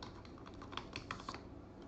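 A password is typed on a computer keyboard, a quick run of soft, close key clicks over a faint steady background hum.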